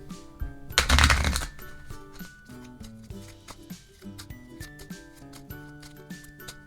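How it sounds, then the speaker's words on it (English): A quick, crisp riffle of playing cards being shuffled, one short burst close up, with soft music playing underneath. "I'm going to shuffle this deck"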